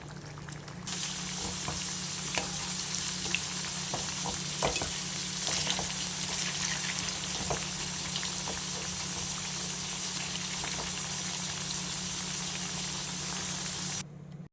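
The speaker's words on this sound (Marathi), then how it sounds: "आपलं तेल गरम झालेलं आहे आता आपण यामध्ये वडे सोडून घेऊया" Vadas dropped into hot oil, frying with a steady, even sizzle and bubbling that runs nearly the whole time, moderately quiet and close, with no voices.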